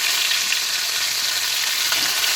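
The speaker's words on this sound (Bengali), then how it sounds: "এবার আমি কিছুক্ষণ নেড়ে করে একটু হালকা ভেজে নেব।" Cut potatoes and a large chopped tomato frying in a pan while being stirred, a continuous dense sizzle with faint intermittent scraping, close up and without voices.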